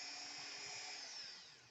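A small high-pitched rotary drill whines steadily against thin tin, a close, continuous buzzing that tapers off slightly at the end.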